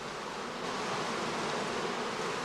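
Bees hum at a skep apiary during the summer heather blossom, a dense continuous buzz of many insects close by with no pauses.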